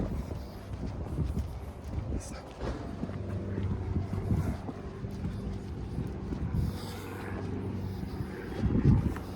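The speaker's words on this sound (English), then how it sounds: "Plane." An airplane passes overhead outdoors, a broad, steady low rumble lasting several seconds that swells slightly toward the end, with some wind buffeting on the microphone.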